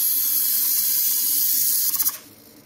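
A hobby servo motor inside a homemade R5-D4 droid gadget whirs steadily as it spins a wooden dowel back and forth, a high buzzing whine that ends in a few quick clicks and stutters before cutting out.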